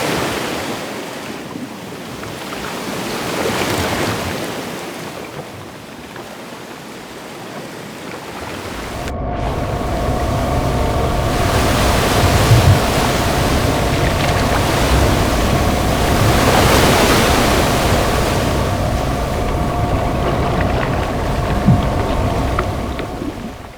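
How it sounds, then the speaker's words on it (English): Looping water ambience for breaking pipes from a sound-effects collection, a steady broadband rush and spray that steps up louder about nine seconds in, with a faint low hum and no voices. "a water ambience loop for the pipes whenever they break."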